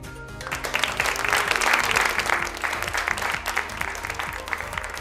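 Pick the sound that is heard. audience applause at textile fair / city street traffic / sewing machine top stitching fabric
audience applause at textile fair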